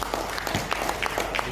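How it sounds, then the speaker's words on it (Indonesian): Brief burst of dense clapping from an audience at a lecture session in Indonesia, fairly close and continuous with scattered distinct hand claps. "Beri tepuk tangan juga."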